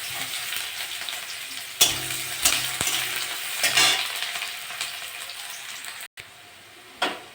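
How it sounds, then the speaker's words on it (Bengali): Onions sizzle in hot oil with whole cumin seeds for a tilapia curry, a loud, steady close-up frying hiss broken by several sharp stirring scrapes and knocks. "জিরেটা হয়ে গেছে, আমি পেঁয়াজ দিয়ে দেবো"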